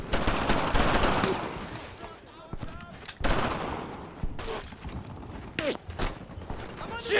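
Gunfire in the WWII game Brothers in Arms: Earned in Blood during a D-Day landing behind German lines, with repeated loud bursts and single shots crackling close by, under a busy battle mix.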